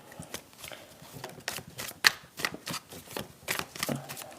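Oracle cards being shuffled at close range during a gentle morning self-care ritual, a run of crisp riffling and slapping bursts with short pauses between them, and no talking.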